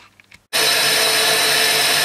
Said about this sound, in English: We'll back at it with the grinder running. We'll run around this cutter.